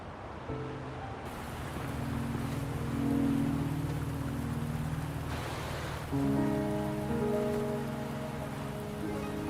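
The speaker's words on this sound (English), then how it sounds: "Are you trapped here by the rain?" Rain falls on a surface in a dense, steady wash of patter that swells slightly midway, with sustained tonal drones layered over it.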